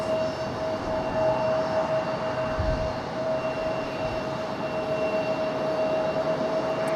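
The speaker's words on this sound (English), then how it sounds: "The 757 will be up next for departure" A Boeing 757 at Raleigh-Durham International prepares to depart, a steady distant engine rumble with a sustained whine, fairly even in level and free of speech.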